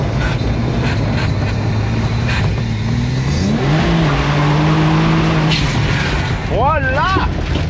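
Car engine revs and pulls hard while lapping a circuit, a loud continuous drone rising and falling in pitch, with a voice speaking over it near the end.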